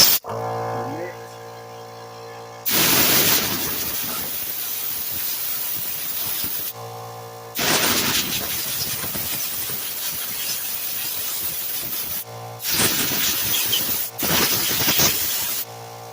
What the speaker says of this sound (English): spray that down with the compressor to fast dry that